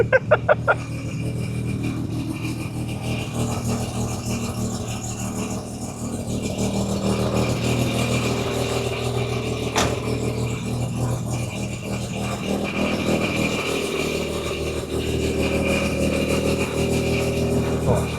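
A rotary-engine car idles low and steady with a rough, rattling mechanical hum that holds level throughout after a brief burst of clatter at the start.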